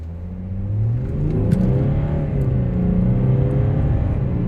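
A tuned VW/Audi 3.0 TDI with a Tunezilla Stage 2 tune launches down a drag strip. A loud, steady engine roar with a whirring note climbs in pitch as it accelerates hard, continuous throughout.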